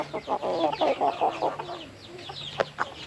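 Silkie chickens cluck in a steady run of short, repeated calls, followed by a few sharper isolated clucks; close by, with no talking.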